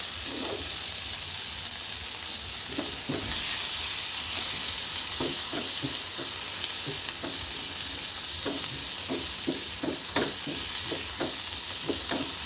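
Small squid adobo with tomatoes is stirred in a hot pan, giving a steady sizzle and fry hiss with a series of soft scraping stir clicks throughout, no talking.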